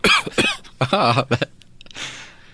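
A voice imitates a cough with a few harsh, rapid coughing bursts, followed by a short breathy exhale.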